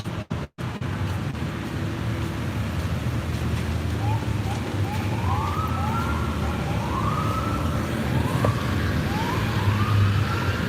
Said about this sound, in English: I'm hearing sirens and I'm seeing lights.